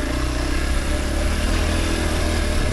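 Kawasaki KLX 230 dual-sport motorcycle riding a frosty trail in second gear, its single-cylinder engine droning loud and steady close up, with no pauses throughout.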